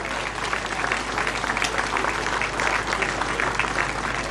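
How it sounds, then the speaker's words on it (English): Audience applause at the prize ceremony of the 2009 FBD Rás Tailteann cycling race final stage: dense, steady clapping from a sizeable crowd, fairly loud and sustained throughout. "So a big round of applause for Dermot and all his team."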